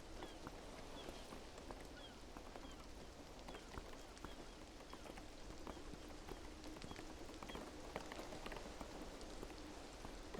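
Steady rain falling on surfaces in the video game Beyond Eyes, a continuous even patter with scattered drip clicks, moderately faint and alone without talk throughout.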